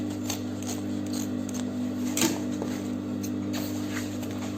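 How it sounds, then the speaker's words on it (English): Scissors snip through Ankara fabric during backpack making, giving faint, intermittent cuts over a constant low electrical hum in a quiet room. "So I'm just going to cut this off."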